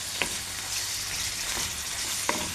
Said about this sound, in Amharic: ዶሮውን ጨምሬበት እጠብሰዋለሁ ማለት ነው።